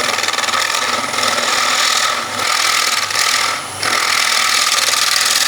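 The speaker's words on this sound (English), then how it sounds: "I've just dropped down to a 1/4 inch bowl gouge, so we can take some smaller cuts" A quarter-inch bowl gouge taking small, light cuts on a wooden bowl spinning on a lathe: a continuous loud scraping, rasping hiss with brief dips as the tool lifts off, no talking.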